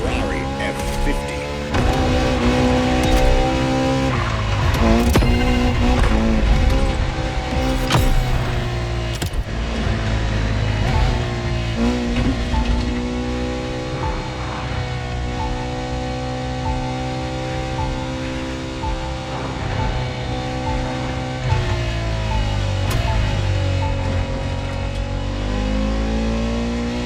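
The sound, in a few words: Ferrari F50 engine in video game The Crew Motorfest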